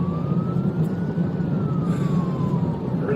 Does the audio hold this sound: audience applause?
no